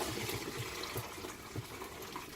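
Boiled water poured slowly from a pan into a colander in a kitchen sink, a steady close gushing and splashing that runs the whole time with no talking.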